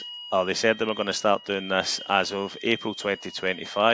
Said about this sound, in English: apologies if you can hear the fire alarm going off